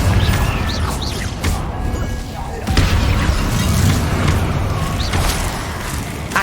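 Incendio and Confringo fire spells in the Hogwarts Legacy video game burst out in a dense run of booming blasts and crashes, loud and close over a continuous roaring battle bed, with a heavy impact near the middle.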